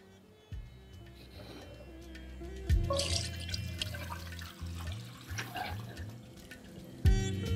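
Water trickles and drips from weighted chhena pressed for rasmalai, a close run of wet splashing with a low rattling hum underneath and a couple of louder bursts, no voices.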